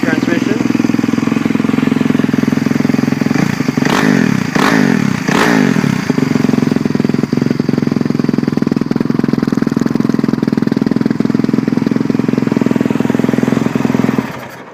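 A 2011 Yamaha YZ450F motocross bike, a 450cc fuel-injected four-stroke single with an FMF Factory 4.1 exhaust, runs loud and close at a steady idle, with a few quick throttle blips near the start.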